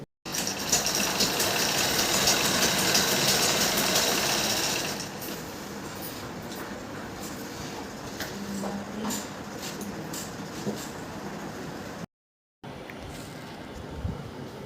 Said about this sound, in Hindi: एक साइड में मशीन से ही सिलाई करूँगी